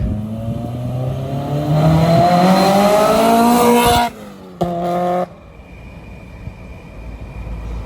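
A supercharged Integra Type S engine revs up with a deep, rising exhaust drone through an inline resonator and two mufflers, cuts off abruptly, blips once more briefly, then settles to a quiet idle.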